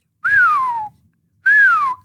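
At night in the Amazon, a person whistles in imitation of a bird: two loud, clear, downward-sliding whistles separated by a short silence.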